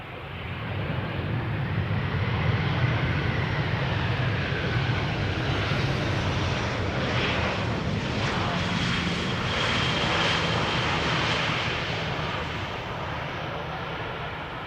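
Iberia Express Airbus A320, about 11 years old, arriving from Madrid: a sustained jet roar that swells and then slowly eases as the plane passes, fairly close and with no talk.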